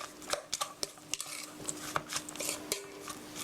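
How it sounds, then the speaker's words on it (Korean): Hamburger steak mixture for a cheese hamburger steak being mixed in a bowl, with repeated close clicks and scrapes of utensil against dish in an irregular rhythm, no talking. "고루 잘 섞어주시고요"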